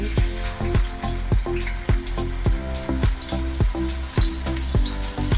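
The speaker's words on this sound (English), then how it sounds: "The oil is hot. I'm gonna sear these lamb chops." Lamb chops sear in hot oil, producing a loud, close, steady frying sizzle with rapid crackling spatter throughout, heard alone without any talking.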